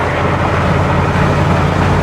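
A 1999 GMC tow truck cruising at highway speed, with dense, steady road and wind roar and a low engine drone from inside the cab, no voices.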